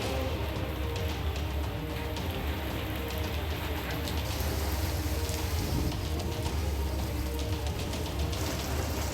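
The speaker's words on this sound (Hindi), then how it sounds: "अरवल्ली में भी मूसलाधार बारिश का कहर लोगों को झेलना पड़ा है।" Heavy torrential rain pours down in Gujarat's Aravalli district, a loud, dense and unbroken roar of water hitting surfaces close by, with no voices.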